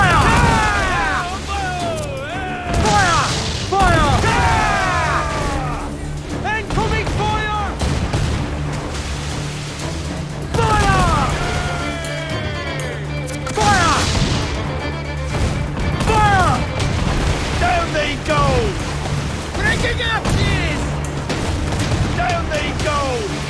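Ship cannons boom in volleys during a naval battle in Assassin's Creed 4 Black Flag, repeated heavy blasts layered under constant shouted orders and crew voices.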